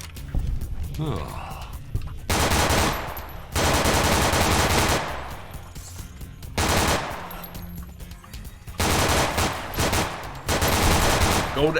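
Rapid gunfire from a .45 pistol in the video game Fallout: New Vegas, several loud bursts of shots separated by short pauses, with a person talking throughout.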